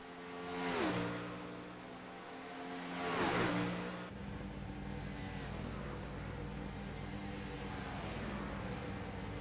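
Race cars roar past at a Scrambler Series dirt race, two loud passing surges with pitch sweeping down as each goes by, then a steady engine drone from the pack continuing underneath.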